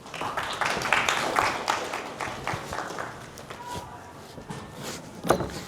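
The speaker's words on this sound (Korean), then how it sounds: "여러분 많은 박수 부탁드립니다." Audience applause at a dental implant lecture, a dense patter of clapping filling the room for several seconds before thinning out, with a single sharp clap near the end.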